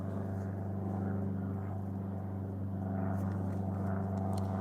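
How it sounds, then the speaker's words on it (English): A low, steady engine drone with strong harmonic bands, like a propeller plane passing overhead, holds at an even loudness throughout with no talk. "Can you hear the plane?"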